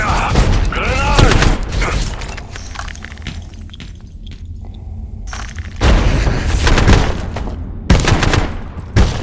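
A grenade goes off amid video game combat, loud booming blasts mixed with rapid gunfire bursts in several loud clusters, close and harsh.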